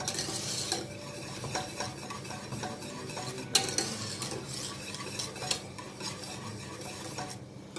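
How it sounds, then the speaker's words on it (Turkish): A spoon stirs custard in a pot just after a spoonful of butter is added, soft scraping swirls with light clinks against the metal and a faint sizzle, close and fairly quiet, ending in a sharper tap. "Şöyle karıştırıyorum."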